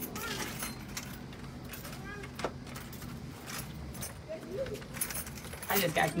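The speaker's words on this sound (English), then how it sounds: "just got new keys, so." A bunch of new keys jangles in bright metallic bursts over a noisy room, louder near the end, with faint voices in the background.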